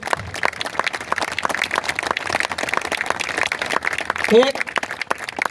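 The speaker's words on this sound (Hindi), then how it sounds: "तो एक बार टाइगर के लिए जोरदार तालियां बजाओ" Dense applause from an audience at a Hindi poetry recital fills the clip steadily, with a loud voice calling out over the clapping.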